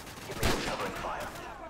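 Covering gunfire in Call of Duty: Modern Warfare, a burst of rapid shots with a sharp crack early on followed by a dense, rattling wash of combat noise, fairly loud throughout.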